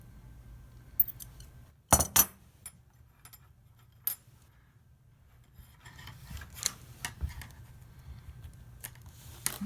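Scissors snip through the loop of an old tent pole shock cord, giving a sharp close double cut, followed by scattered quieter clicks and rustling handling noises in an otherwise quiet room.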